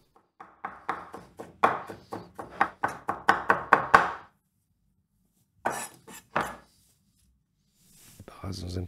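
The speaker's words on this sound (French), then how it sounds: "je vais hacher des cornichons" Knife chopping cornichon pickles on a board for tartar sauce: a rapid run of about fifteen crisp, close chops, then a pause, a few more cuts and light kitchen clatter.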